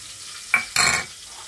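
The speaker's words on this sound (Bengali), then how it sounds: "কালো জিরেটাকে অনবরত নেড়ে চেড়ে ভেজে নিচ্ছি" Black cumin seeds dry-roasting in a pan as they are stirred constantly: two short, close scraping bursts of seeds rattling and hissing across the metal, separated by a brief pause, then quiet.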